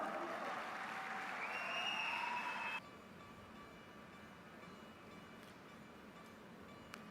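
Steady crowd applause for musicians at a concert, dense and broadband, loudest in the first few seconds before dropping to a softer continuing clatter.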